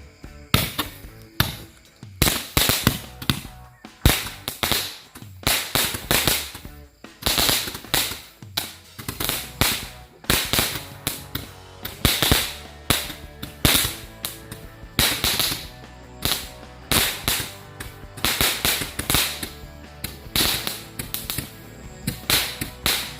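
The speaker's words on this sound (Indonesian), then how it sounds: "kita bakal nyalain mercon yang bagus-bagus nih" A rapid, dense string of loud firecracker bangs and crackles going off nearby at night, continuing for over twenty seconds with no talking.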